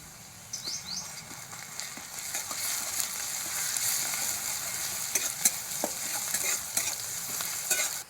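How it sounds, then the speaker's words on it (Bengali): Chopped onion and garlic paste fry in hot oil in a wok, with a steady close sizzle and repeated scraping stirs of a utensil, plus faint bird chirps in the background. "পেঁয়াজ রসুন ভেজে নিয়েছি"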